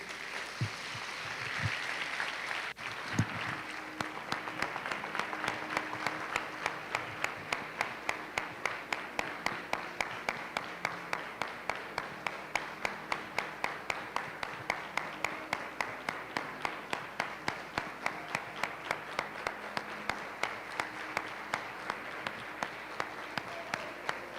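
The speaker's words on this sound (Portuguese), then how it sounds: "Você pode aplaudir a Jesus por isso?" A church congregation applauding, starting with scattered clapping that soon settles into loud, rhythmic unison clapping on a steady beat, kept up for a long stretch.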